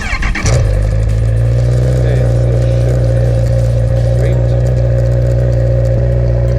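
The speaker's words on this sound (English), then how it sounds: "start the engine and let it idle" A 2018 Honda CB1000R motorcycle engine idling in neutral, a loud, close and steady low rumble that holds even after a brief start at the beginning.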